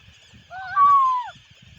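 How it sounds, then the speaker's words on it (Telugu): A bird at a large reservoir gives a single loud, drawn-out honking call lasting under a second, set against a quiet background with faint low rustling. "ఒక్కసారి అట్లా లోపల ఎన్ని లేచిన చూడండి పక్షులు"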